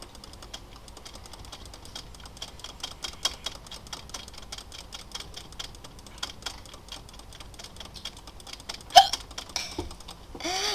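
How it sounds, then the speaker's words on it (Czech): A person hiccups repeatedly during a Czech Minecraft Mineplex Runners let's play. Sharp, brief hiccup bursts stand out, one loud near the end, over steady clicking of keyboard typing. "Promiňte, že škytám, nějak mě napadla škytovka."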